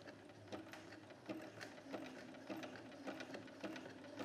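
Sewing machine stitching through thick towel fabric for a bathmat, a quiet, steady mechanical chatter with a regular pulsing rhythm, heard close and alone.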